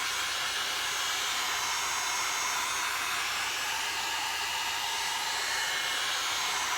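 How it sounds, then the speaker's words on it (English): A handheld heat dryer blowing hot air to dry stencil paint on canvas, a loud, steady, close whooshing drone that runs continuously without change and with no talking. "And I'm going to take my heat dryer to dry this real quick."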